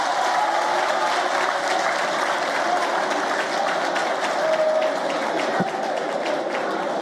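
Sustained, loud applause from a large crowd of students at a question session with Emmanuel Macron in Ouagadougou, dense steady clapping filling the whole stretch with some crowd noise mixed in.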